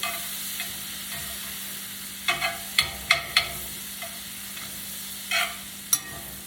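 Butter melting in a hot pan for a Dutch baby, a low steady sizzle broken by a few soft scraping stirs and light clinks, fairly quiet and with no talking.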